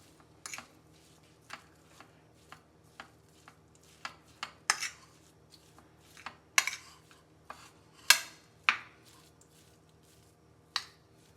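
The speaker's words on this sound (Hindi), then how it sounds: "ये जी कीमा जो हमने मसाले डाले थे वो मैश कर लिया है। वो चम्मच के साथ तो नहीं था हो रहा" A metal spoon clinks and scrapes against a bowl while spiced minced keema is mashed, irregular sharp taps and scrapes close up with quiet gaps between them.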